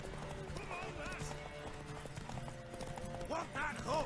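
Horse hooves clip-clop steadily in The Witcher 3, with a neigh or whinny rising near the end, all under ongoing talk and game music.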